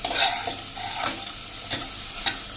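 Poha with potatoes is stirred in a pan after a teaspoon of turmeric goes in, with a steady frying hiss and a few scraping strokes of a spoon, and no one talking.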